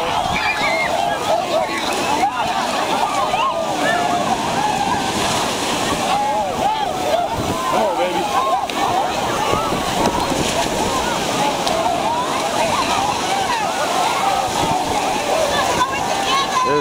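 Cold ocean surf at Point Lookout, New York, during a winter polar bear plunge, steady loud crashing and splashing water with wind buffeting the microphone, continuous throughout with a crowd noise underneath.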